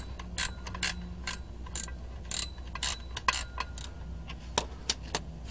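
A ratchet clicks in quick irregular bursts while loosening the 10mm bolts on a rear differential, sharp close ratcheting against a quiet background with no talk.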